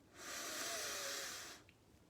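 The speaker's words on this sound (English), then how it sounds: "take a really nice, nourishing, deep breath in" A long, steady, airy inhalation, close and fairly loud, lasting over a second before fading out.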